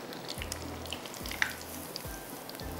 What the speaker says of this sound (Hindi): थोड़ा सा बस इसको और फ्राई करेंगे